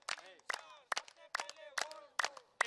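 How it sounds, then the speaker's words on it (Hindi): A crowd at an outdoor yoga session on a sports ground claps in a steady rhythm, about two claps per second, each sharp and bright, with voices chanting or laughing between the beats. "देखिए तालियां गूंज रही है मैदान में,"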